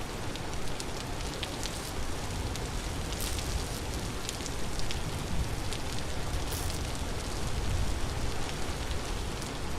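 Steady rain falls in the survival game Vintage Story, an even hiss of drops patters continuously on surfaces, moderately loud throughout with scattered crisp droplet ticks and no talking.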